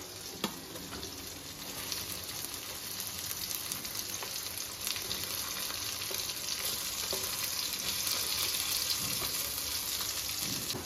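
Tomatoes frying and sizzling in a pan for chicken thokku biryani, a steady close hiss with occasional stirring clicks throughout, no voices.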